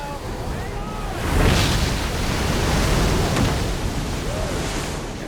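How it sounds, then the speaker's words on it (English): Large ocean waves surge and crash in open water off the Oregon coast at Cape Disappointment, a loud sustained roar swelling midway and rolling on without a break. "Large waves, moving at speeds of up to 70 miles an hour, surge across thousands of miles of open ocean."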